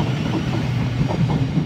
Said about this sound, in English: We have a 450 that looks like it might be going through.